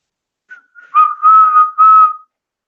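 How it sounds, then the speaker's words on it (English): A short, clear whistle in a few quick bursts, rising and falling in pitch over about a second and a half, heard alone. "Blow the whistle."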